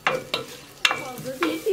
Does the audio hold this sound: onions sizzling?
yes